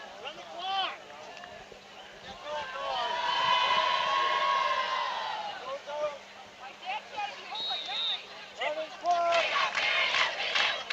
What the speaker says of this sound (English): The crowd calling for running clock.